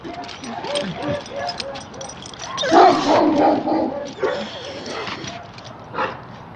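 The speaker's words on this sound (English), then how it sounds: "they encountered dogs behind fences while on the walk" Dogs behind fences bark and yip repeatedly at passing walkers, fairly close, with whimpering between bursts and a person talking over them.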